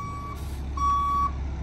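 A dump truck delivering a load of rock gives reversing beeps, two steady electronic tones with a gap between, over a low idling engine rumble.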